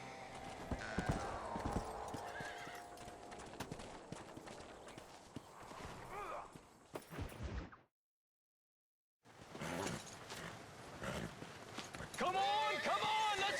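Horses gallop in the video game Red Dead Redemption with rhythmic clip-clop hoofbeats and an occasional whinny. Voices talk over the hooves, and the sound cuts out to silence briefly midway before resuming.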